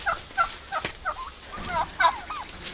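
Several turkeys gobble repeatedly in quick warbling bursts, fairly close, overlapping one another against a faint outdoor background in a village yard in snowless winter.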